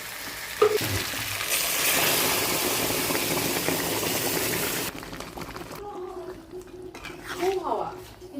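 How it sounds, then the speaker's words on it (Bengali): Lentils tipped into hot oil in a wok, giving a loud, steady sizzle of frying for several seconds that fades into quieter stirring and clinking of pans. "দেখো একটা ব্লিঙ্কি হলো, এবার ডালটা আমি ঢেলে দেবো।"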